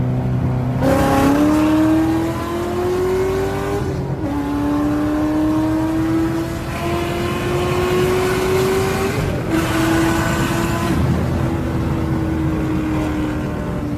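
LSA supercharged V8 in a Pontiac GTO accelerating hard on a dyno, a loud, close engine roar whose pitch climbs through repeated rising pulls with brief dips between gear changes, lasting throughout.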